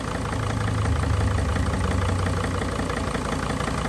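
A Mercedes Sprinter diesel engine idles with a cylinder misfiring, giving a steady, close, loud low rumble with uneven undertones and no talk.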